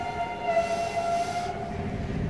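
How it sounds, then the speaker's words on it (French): An RER commuter train at Boussy-Saint-Antoine station gives a steady mechanical hum with a sustained tonal whine, close and continuous on the platform with no talk. "Vous venez d'entendre le doux son du RER."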